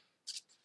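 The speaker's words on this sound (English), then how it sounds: "Shuffling this deck." An oracle card deck is shuffled in a brief, faint burst of crisp riffling, two quick papery flicks followed by softer ones.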